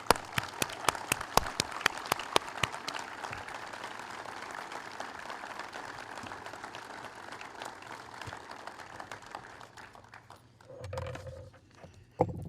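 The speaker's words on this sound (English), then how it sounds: "with a round of applause for their bravery and courage" Applause from an outdoor Memorial Day audience honoring Vietnam veterans: scattered, crisp claps build into sustained clapping that gradually fades, followed by a brief low hum near the end.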